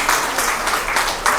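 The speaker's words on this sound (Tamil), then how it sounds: "எல்லாம் கைத்தட்டலாம்ல சொத்து வாங்கினவங்களுக்காக" Applause from an audience at a money and property seminar, a dense steady patter of many hands clapping close and loud throughout.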